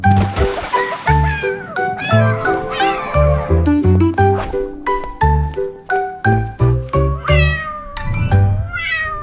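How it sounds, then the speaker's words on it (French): A cat meows repeatedly, soft, high and tuneful, in a rapid series of short calls with a light jingle in the background. "Le chat miaula doucement"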